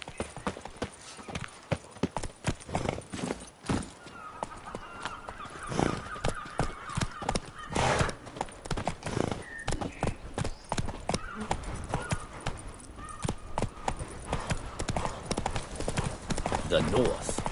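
Roach, Geralt's horse in The Witcher 3: Blood and Wine, gallops with a fast, rhythmic clip-clop of hooves, up close and steady throughout, while character voices speak over it.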